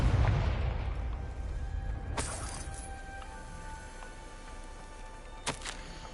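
A Confringo fire spell explodes in the video game Hogwarts Legacy, landing as a sharp crack and boom over a low rumbling backdrop, with a second smaller burst near the end.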